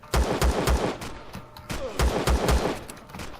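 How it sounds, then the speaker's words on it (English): Gunfire in the video game Empyrion rings out in rapid bursts of sharp, loud shots, several clustered volleys separated by brief gaps. "Somebody else is shooting me somewhere."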